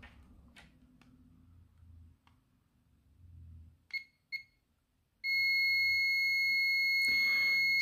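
Multimeter on continuity setting emitting a steady high electronic beep that starts abruptly and holds loud and close, after a couple of brief probe chirps and faint handling clicks.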